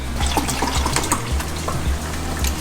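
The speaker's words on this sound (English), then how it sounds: "So this is 2 cups of water." Water poured into a rice cooker pot while measuring about two cups for three cups of rice during meal prep, a steady close trickle and splash lasting a few seconds with no talk.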